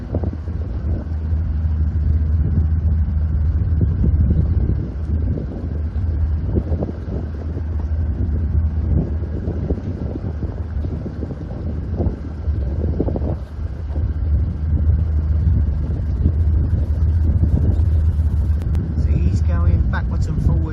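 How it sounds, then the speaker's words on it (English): A sailing boat motoring under engine power on the River Waveney in the Norfolk Broads, a steady low rumble running throughout, mixed with wind buffeting the microphone and water noise. "Yeah, it's definitely got its engine running."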